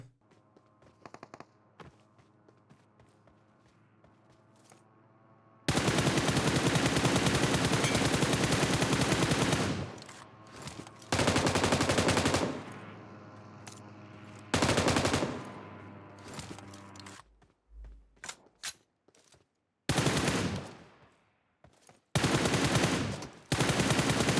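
Machine gun spray fire rings out in the PUBG Mobile video game, with long, loud, rapid automatic bursts alternating with shorter volleys and brief quiet gaps.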